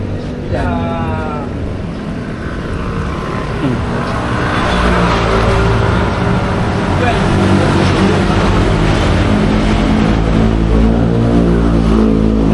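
An e-bike motor in the Philippines whirring steadily and fairly loud throughout, with a tonal hum building gradually, while a person talks and a cat meows briefly near the start.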